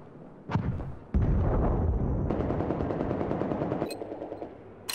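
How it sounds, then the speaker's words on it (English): Gunfire in Battlefield 4: a single sharp shot, then a loud sustained burst of rapid automatic fire lasting nearly three seconds, ending in an abrupt blast. "the first fucking 2 seconds of him shooting at me, he missed"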